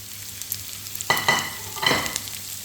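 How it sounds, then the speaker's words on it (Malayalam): Vegetables tipped into a hot pan and stir-fried for vegetable noodles, giving two short bursts of clatter and sizzle over a low hum, with no talking. "ഇനി നമുക്കിതിലേക്ക് എടുത്ത് വെച്ചേക്കുന്ന ഈ പച്ചക്കറികൾ ഓരോന്നോരോന്നായിട്ട് ഇട്ട് കൊടുക്കാം."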